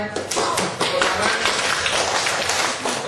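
A group at a community disaster-preparedness session in Simeulue claps together, with sharp, dense hand claps filling a short burst amid room noise.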